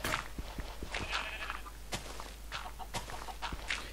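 Sheep in the Minecraft video game bleat in short repeated cries at irregular intervals, mixed with brief clicks and game noises, fairly faint overall.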